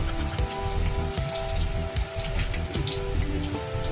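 Spiral-cut potato frying in boiling oil, a dense, loud crackling and sizzling hiss with bubbling pops throughout, heard close up without talk.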